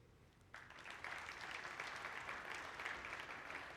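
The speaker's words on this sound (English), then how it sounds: "Please clap your hands if you currently sport a wearable device for fitness" Conference keynote audience clapping in response to a show-of-hands poll, starting after a brief quiet moment and continuing as a fairly soft, steady wash of applause.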